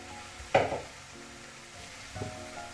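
Cooked rice goes into a pan of frying kimchi for kimchi fried rice: a quiet sizzle under two brief stirring scrapes.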